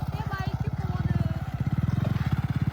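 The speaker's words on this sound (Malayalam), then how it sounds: "ബൈക്കിൽ പോകുന്നുണ്ട് ആൾക്കാർ." A motorcycle engine close by on a hill road, a rapid, steady, pulsing putter with a slight rise in loudness, a faint voice in the background.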